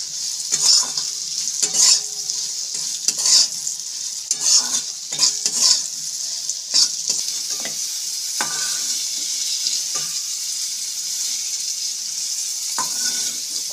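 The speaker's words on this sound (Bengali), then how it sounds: "করলাগুলো ভেজে তুলে নিচ্ছি।" Bitter gourd frying in a pan, with a steady bright sizzle and repeated rhythmic scrapes and taps of a spatula as the pieces are turned.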